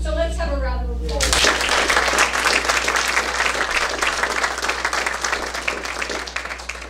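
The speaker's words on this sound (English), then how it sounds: "So let's have a round of applause." After a short spoken line, an audience at a Rivers Coalition meeting breaks into applause, a sustained patter of many hands clapping that continues for several seconds and gradually softens.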